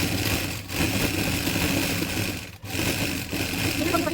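A sewing machine runs steadily while stitching a salwar, a continuous mechanical hum with brief pauses, fairly loud and close.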